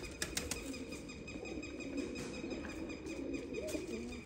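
Sialkoti pigeons coo in low repeated throaty phrases while sharp bursts of wing flapping clap near the start and again later, close and moderately loud over a busy background, without speech.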